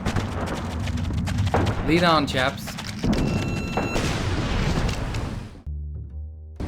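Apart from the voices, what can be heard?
explosions and artillery fire in the video game Iron Storm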